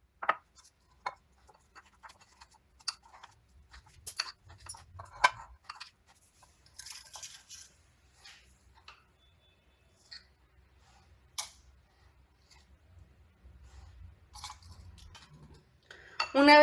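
Crushed cookies stirred into melted butter in a bowl for a cheesecake crust, heard as faint, scattered scraping and clicking of a utensil against the dish, with quiet pauses between strokes.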